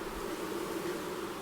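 Honeybees droning around an open nuc hive while a beekeeper raises new queens, a steady low buzzing hum with a hiss of wings, close and even, no voices.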